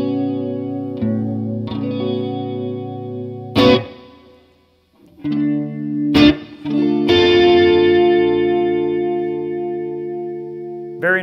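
Guitar played through a Boss Waza Craft CE-2w chorus pedal, strummed and sustained chords with a shimmering chorus effect, a few sharp strums and short pauses between phrases, close and clear with no talking.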